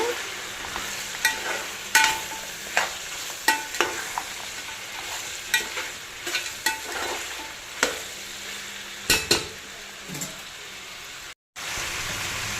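Tomatoes fry in hot oil with a mutton curry, a steady sizzle broken by repeated scraping stirs of a spoon in the pan at irregular intervals, up close.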